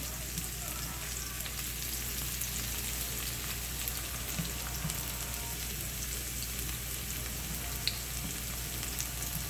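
Shrimp and broccoli frying in a pan with garlic sauce give off a steady, even sizzle that holds at a moderate level throughout, with no talking.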